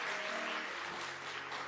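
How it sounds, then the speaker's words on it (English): A brief burst of audience applause at a community faith gathering in Cook County, dense and steady clapping, fairly faint, with no one speaking over it. "Let's give her a round of applause in a special way"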